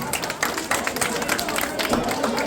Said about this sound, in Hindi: मैं चाहूंगा कि एक बार जोरदार तालियां हो जाए